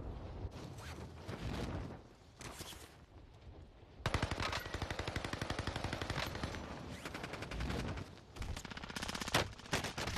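Machine gun fire in a video game comes in rapid bursts, first short scattered rattles, then a long dense volley, with brief pauses between the strings of shots.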